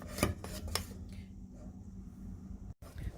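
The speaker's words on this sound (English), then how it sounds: "I'm scraping the cream cheese and the confectionery sugar into our peaked whipped cream" A spatula scrapes a cream cheese and confectioners' sugar mixture into peaked whipped cream, giving a few close, soft scraping strokes and utensil taps against a bowl, with no talking.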